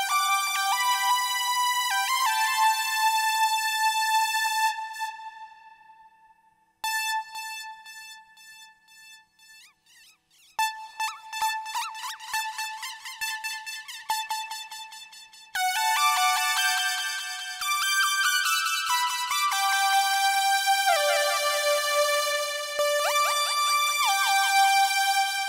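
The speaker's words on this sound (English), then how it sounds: "Turn off that flanger. I mean, just listen to that with the effects." An electronic synthesizer plays bright, sweeping tones through a flanger effect, loud and alone, with sustained chords, a stuttering run of short notes, then a long phased passage.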